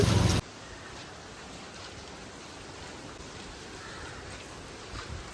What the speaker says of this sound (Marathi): सो बाहेर मस्त पाऊस पडते